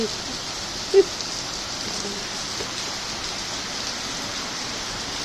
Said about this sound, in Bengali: এত গরমের পরে এই বৃষ্টিটা কি সুন্দর